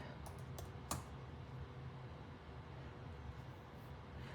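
Quiet, close tapping of keys on a computer keyboard, a few sharp clicks early then faint scattered typing against a low background hum.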